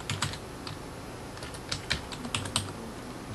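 Short burst of typing on a computer keyboard as a folder name is entered, a few quick, light key clicks in small clusters, close and alone.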